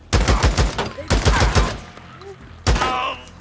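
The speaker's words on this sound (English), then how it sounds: "shot a bunch of lead into your chest" Rapid bursts of gunfire in Days Gone come in three loud clusters of quick, close shots, with brief gaps between them and a final burst near the end.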